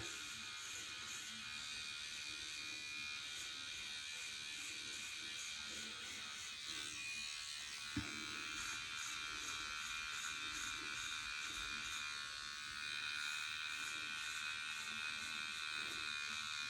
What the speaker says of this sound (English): I'm gonna take my other trimmers, these are trimmers, and I'm gonna make it a little bit more cleaner for this fade.